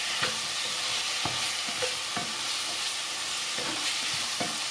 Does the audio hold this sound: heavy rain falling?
no